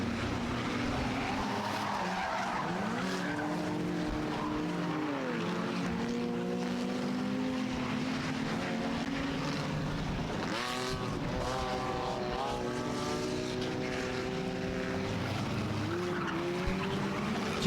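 V6 race cars lapping in a 75-lap enduro at Star Speedway during the Halloween Howler, engines roaring continuously as cars pass with rising and falling pitch sweeps, loud and dense over a steady crowd-like wash.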